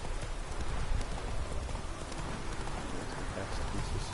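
Hooves of the horse Roach galloping in Witcher 3, a quick, steady clip-clop rhythm with a soft rain-like hiss behind it, held at moderate volume throughout.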